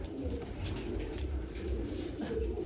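Pet pigeon cooing nearby, a low, continuous burbling murmur that stays steady throughout.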